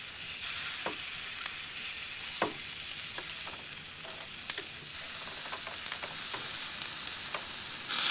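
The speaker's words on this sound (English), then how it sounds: "We'll sear it both sides, keep it nice and rare in the middle for about 1 minute each side" Wallaby meat sears in hot oil in a pan, giving a steady, moderately quiet sizzle broken by scattered sharp clicks and scrapes from stirring or turning, with no voices.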